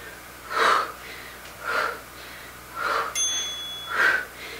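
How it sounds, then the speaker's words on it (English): A single electronic timer beep signals the end of a kettlebell workout interval, a thin steady tone lasting under a second. It sounds between rhythmic heavy breaths and exertion gasps, with no talking. "Gonna do one more even though it beeped."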